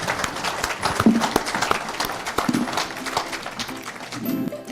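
Scattered audience applause for a real estate finance panel, fairly close and steady for a few seconds, with a murmur of voices mixed in.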